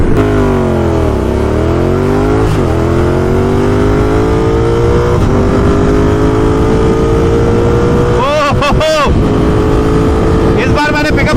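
A Yamaha R3 motorcycle engine revs up close and loud during a race, its pitch climbing and dropping through gear changes, with another engine whining sharply near the end.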